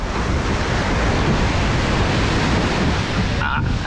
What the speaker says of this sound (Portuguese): Aí a gente vai esperar a onda subir ali agora, ó.